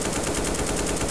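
Rapid automatic gunfire in the Garry's Mod sandbox game, a dense, continuous burst of loud shots filling the whole moment with no pauses.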